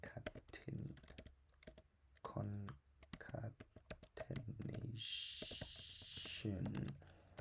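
Computer keyboard typing in quick irregular bursts of clicks, heard close and mostly under a man's speech, with a brief hiss of noise midway.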